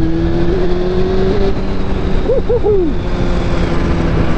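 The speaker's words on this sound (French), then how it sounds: "Allez, j'accélère un peu." Carburetted, liquid-cooled motorcycle engine accelerating, a loud steady drone close by with the pitch rising and wavering briefly as the throttle opens.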